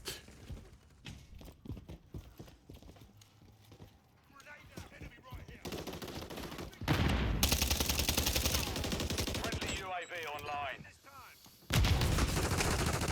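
Automatic gunfire from a teammate in the Call of Duty MW3 beta, with bursts that swell into dense sustained firing and a voice talking in the background.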